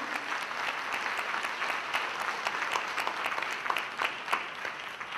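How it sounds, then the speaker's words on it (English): Steady audience applause fills a conference hall, dense hand clapping sustained evenly throughout, fairly loud and close with no talk over it. "that's worth a hand clap right there"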